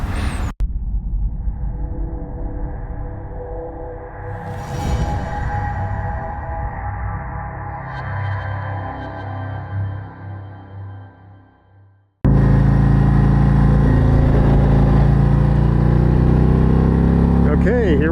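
A Harley-Davidson RG3 motorcycle on a test ride, its engine rumbling steadily under passing talk, dropping away near the twelve-second mark before returning as a loud, sustained drone with strong wind roar.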